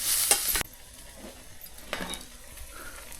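Onion and garlic roasting in a pan on a wood-fired stove, heard as a loud burst of sizzle and utensil clatter for about half a second, then a quieter crackle with an occasional scrape.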